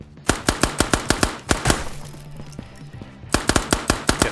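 Gunshots in the virtual reality shooter Ghosts of Tabor: two rapid bursts of sharp, loud automatic fire separated by a brief pause, with no talking over them.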